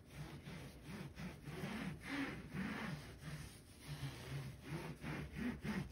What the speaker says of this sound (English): Now, you're gonna take it and you're going to wipe away the excess.